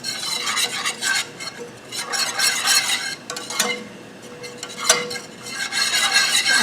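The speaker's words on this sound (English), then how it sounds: "now you want to whisk your flour into the oil until you have a nice kind of thickened paste" A whisk scrapes and swishes through flour and oil in a pan as a roux forms for gravy, rhythmic close stirring strokes with a light sizzle underneath and brief pauses.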